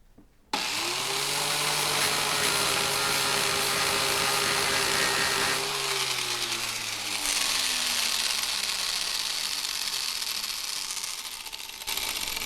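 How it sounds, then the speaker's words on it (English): A flap wheel grinds metal parts of a Model T flywheel magneto, starting abruptly with a loud, steady whine that drops in pitch partway through as the load shifts, holding close and continuous to the end. "Okay, so we're going to grind these off."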